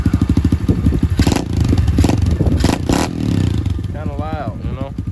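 A 2021 SSR dirt bike idles in neutral with a steady, close, clattery low putter, and a voice is heard briefly near the end.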